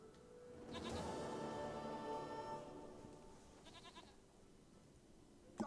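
A goat in The Witcher 3: Wild Hunt bleats in a drawn-out, wavering call that fills most of the stretch, then gives a shorter second bleat before fading, with no talk over it.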